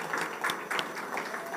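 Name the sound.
audience applause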